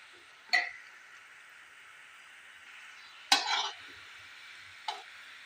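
Flattened rice pitha cooking in a pan, a quiet steady sizzle broken by three sharp clinks and scrapes of a utensil stirring and turning the pieces.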